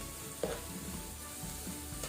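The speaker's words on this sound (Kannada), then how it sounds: "ಗಾರ್ಲಿಕ್, ಅದರ ಜೊತೆನೆ ಜಿಂಜರ್, ಗ್ರೀನ್ ಚಿಲ್ಲಿ, ಇದನ್ನು ಸ್ವಲ್ಪ ಫ್ರೈ ಮಾಡುವ ಮೀಡಿಯಂ ಫ್ಲೇಮಲ್ಲಿ" Garlic, ginger and green chilli fry in hot oil in a pan over a medium flame, a soft, steady sizzle with a faint scrape of stirring, quiet and close.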